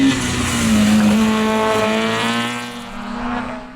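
Rally cars, a Mini and a Vauxhall Corsa, race hard around the Nutts Corner circuit, with a loud, sustained engine drone that swells, shifts pitch and fades slightly toward the end.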